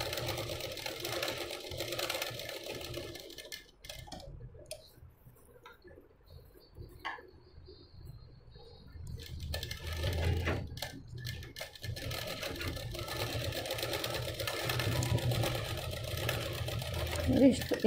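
Sewing machine stitching a boat-neck blouse, running in bursts of close mechanical whirring and ticking with a pause in the middle, while someone speaks over parts of it.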